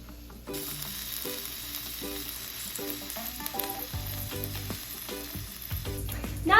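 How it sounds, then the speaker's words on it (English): Green beans frying in a pan for a Chinese-style dish, a steady sizzle with faint clinks of stirring and a few louder scrapes near the end, no talking. "After your 4 minutes is up, you're going to stir and let it sit for 3 minutes."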